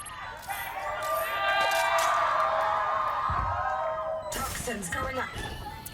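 A crowd at a Valorant esports match between Sentinels and G2 at the 2024 Americas Kickoff cheers and whoops loudly for several seconds, a sustained roar that swells and then thins, with excited commentary over it.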